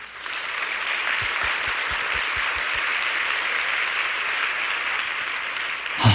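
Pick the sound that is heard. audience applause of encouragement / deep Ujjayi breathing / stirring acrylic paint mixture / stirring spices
audience applause of encouragement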